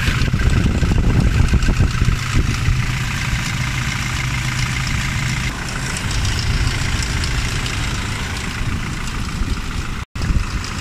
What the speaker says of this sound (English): Rattling sound coming from the engine bay.